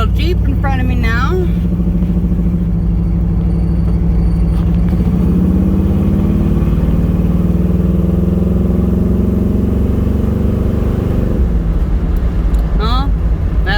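A 1978 Pontiac Trans Am on a short test drive gives a loud, steady engine drone with rising and falling tone as it accelerates, while someone talks over it at the start and end.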